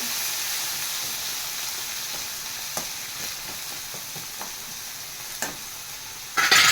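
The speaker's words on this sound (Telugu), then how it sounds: "కడాయిలో నూనె పోసుకొని కొంచెం గరం అయినాక పచ్చిమిరపకాయలు వేసుకోవాలి" Green chillies, coriander and mint frying in oil in a kadai, a soft steady sizzle with occasional spoon scrapes, swelling into a louder burst of frying at the end.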